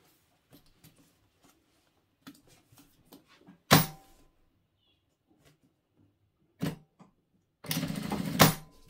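A sewing machine stitches a zip onto a fabric bag in a few separate runs: a short burst, a brief one, then a longer steady whir, with faint handling taps between them.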